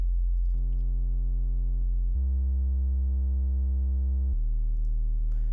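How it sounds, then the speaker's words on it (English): Synth loop built from scratch in Reaktor: sustained harmonic tones shifting through a few pitch changes in steady blocks, clean and fairly loud with no voice. "that's our finished loop there, using Reaktor, creating our sound from scratch"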